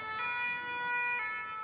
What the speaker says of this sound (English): Sirens now the soundtrack of the city